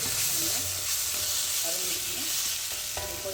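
Crushed mudavattukal tuber sautéed in a pan with onion and tomato, giving a continuous bright sizzle and hiss with scattered stirring scrapes and clinks, close and steady throughout.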